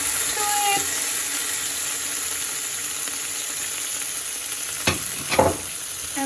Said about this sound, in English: So I have just some onion and garlic and the paprikas here, and I'm just gonna add this one to it.